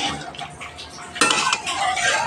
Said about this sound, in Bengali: ঢাকা দিয়ে দিলাম 5 মিনিটের জন্য